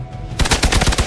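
Rapid automatic gunfire in the Marvel's Midnight Suns video game, a burst of about eight quick evenly spaced shots after a brief lead-in, loud and close.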